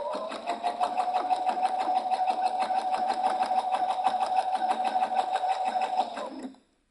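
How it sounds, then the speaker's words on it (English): A sewing machine stitching two layers of fabric together runs in a steady fast whir with rapid needle clatter for about six seconds, then stops abruptly. The sound is close and clear, with no talking. "I am running my fabric right along the A foot."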